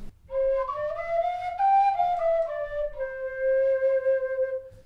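A Nuvo TooT beginner flute fitted with a first-note lip plate is simply blown down, giving a clear, breathy whistling tone that slides up and down between several sustained notes, played close and alone.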